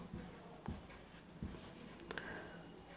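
Pen on paper writing out a class 12 maths linear programming solution, with faint, close scratching strokes and taps in short spurts over quiet background noise.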